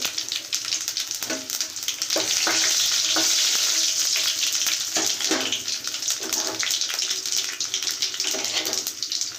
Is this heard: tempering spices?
yes